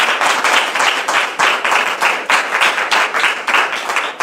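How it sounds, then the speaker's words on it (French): Sustained church congregation applause, with steady dense clapping from a sizable audience filling the room. It rises and falls slightly in loose waves and carries on without a break. "Vos applaudissements ne sont pas à la hauteur."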